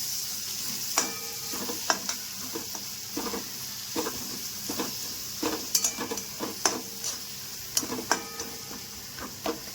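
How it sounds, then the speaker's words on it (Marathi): Onion, tomato, green chili, turmeric and peanuts fry in a pan, giving a soft steady sizzle broken by repeated clicks and scrapes of a spoon stirring, fairly quiet with no talking. "थोडंसं फ्राय होऊ देते ह्याला."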